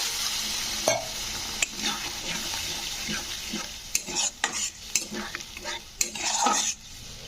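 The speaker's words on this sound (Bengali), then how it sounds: "হাফ চামচ মতন হলুদ গুঁড়ো দিলাম তো দিয়ে এগুলো ভালো করে কষে নিতে হবে" Spices and turmeric fry in a pan for a vegetarian kohlrabi dish, a steady sizzle broken by repeated spoon scrapes and clinks against the metal as everything is stirred.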